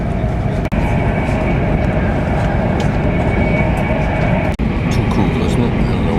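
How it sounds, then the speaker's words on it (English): Continuous loud rumbling hum of a bullet train accelerating out of a station in China, heard from inside, with a steady whine and two brief dropouts. "feel the bullet train heel over to the right on a right turn as it continues to accelerate"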